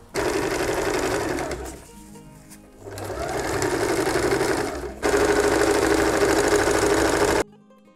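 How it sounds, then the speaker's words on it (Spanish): A sewing machine stitching a pillow onto a child's sleeping bag, running in steady fast bursts with a short pause between them, close and fairly loud, then stopping abruptly. "Ahora vamos a coser la almohada con la bolsa"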